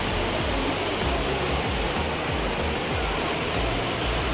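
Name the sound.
waterfall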